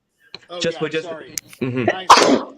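One sudden, loud sneeze bursts out at the very end, right after a stretch of brief, apologetic talking.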